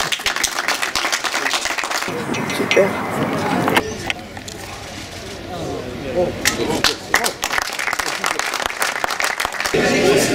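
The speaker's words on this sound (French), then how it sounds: "On peut s'applaudir." Audience at a fire and rescue station inauguration in Hagetmau claps in a lively burst that fades into a quieter stretch with a voice speaking, then the clapping swells again near the end.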